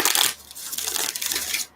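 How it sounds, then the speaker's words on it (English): A deck of tarot cards is shuffled close up in one brief riffle, a crisp rapid flutter of cards that ends abruptly. "One more shuffle."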